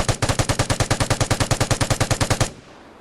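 Light machine gun from the video game Vigor firing one long burst of about twenty rapid, evenly spaced loud shots, then cutting off into a short fading tail.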